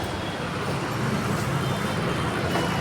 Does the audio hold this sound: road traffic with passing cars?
yes